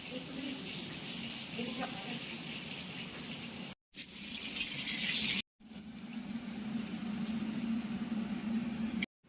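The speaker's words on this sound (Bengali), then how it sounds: "কালো জিরেটা দিয়ে ভেজে নেওয়া হচ্ছে" Black cumin (nigella) seeds fry in mustard oil, giving a steady soft sizzle and hiss that breaks off twice briefly, heard close and alone.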